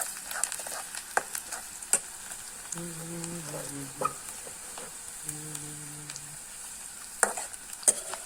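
Onions frying in a pan until lightly reddened, a soft steady sizzle with occasional clicks of stirring, while a brief faint animal-like tonal call drifts in twice from the background; no one speaks.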